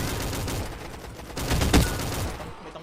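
Rapid gunfire in a Roblox shooting game, a busy rattle of overlapping shots that swells briefly in the middle with one sharper report, then fades toward the end.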